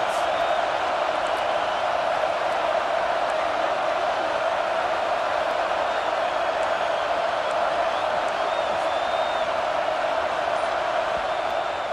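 A packed stadium crowd roars during a USC vs Notre Dame college football game, a dense, unbroken wall of cheering and shouting that holds at a constant, loud level throughout.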